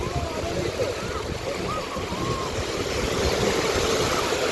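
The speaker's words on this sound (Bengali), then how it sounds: "সমুদ্রের আওয়াজটা কি সুন্দর লাগছে না শুনতে" Beach surf on the sea coast at Mandarmoni, a steady moderate wash of waves with low rumble, heard at some distance, with a faint voice talking briefly.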